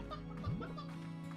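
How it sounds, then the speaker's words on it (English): A chicken in the video game Slime Rancher gives a quick, faint cluck over a steady game background hum, lasting only a moment. "Do you hear that chicken say bakak,"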